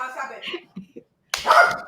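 A puppy gives a sharp bark after a brief pause, with people talking just before it in an indoor setting.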